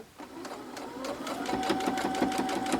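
A sewing machine stitches fabric for a pincushion with a close, steady mechanical whir and rapid needle ticking that speeds up slightly.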